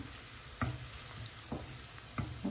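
Onions frying in a pan for a lentil dish as cumin powder goes in, a steady soft sizzle broken by four short scraping stir strokes, fairly faint and close.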